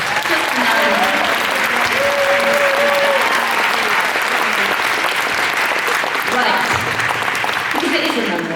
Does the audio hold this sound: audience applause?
yes